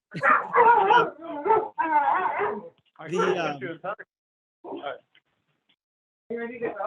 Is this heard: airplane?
no